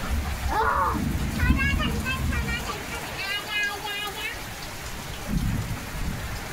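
Steady rain patters down with low rumbling underneath, and a voice calls out briefly near the start while the downpour continues throughout.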